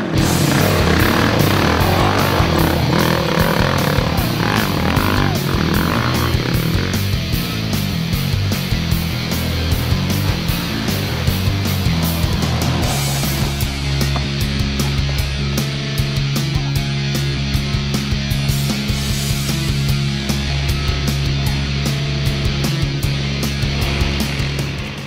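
Trail motorbike labouring up a forest hill on the Kowen Forest trail ride, its engine loud and continuous, straining throughout and settling into a steadier droning note partway through.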